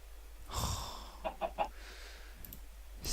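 Chickens cluck in the Minecraft video game, a burst of soft fowl calls followed by three short separate clucks, fairly close against a quiet background with no talk.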